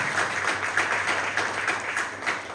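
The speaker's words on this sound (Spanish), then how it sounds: "Si puedes algo, dar aplausos al Señor." A church congregation claps together in steady, continuous applause that fills the room for a few seconds, fairly loud and even.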